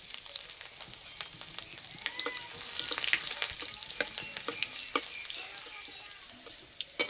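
Crushed garlic with five-spice and dried red chillies sizzles in mustard oil in a cleaned kadai, a steady close crackle with stirring scrapes and sharp spatters throughout, no voices.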